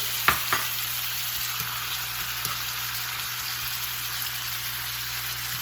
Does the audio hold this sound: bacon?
yes